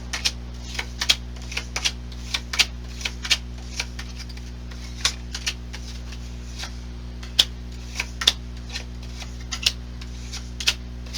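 Tarot cards are laid down one after another onto a surface, giving light, irregular snapping taps over a steady low background hum, close and fairly quiet with no voices.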